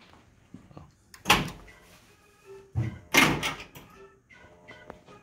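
Coin door on a Munsters Pro pinball machine in home use, swung open and shut with two loud metallic thunks about two seconds apart, plus a few quieter clicks and rattles between them.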